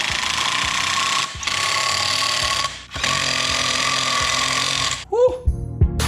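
Ratchet clicking rapidly in three long bursts while bolts are pulled in during a Subaru STI clutch install, loud and close, with brief pauses between strokes and a short rattle at the end.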